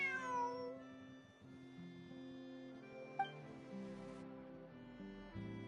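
A cat meows in Genshin Impact, a clear descending meow near the start over soft game music, followed by a few faint tones.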